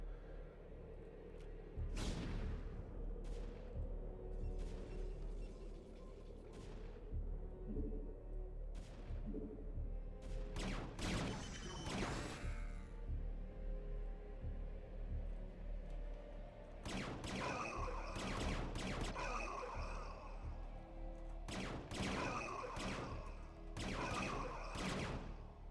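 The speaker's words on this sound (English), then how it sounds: "Scourge trying to make connections on these BCs" StarCraft: Brood War battle with scourge attacking battlecruisers: a steady run of game weapon shots and explosion bursts, some in dense clusters, over a continuous low battle rumble.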